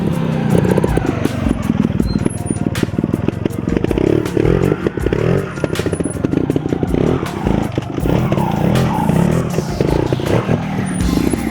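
A trial motorcycle engine putters and revs unevenly at close range, with clattering and scraping as the bike shifts in place.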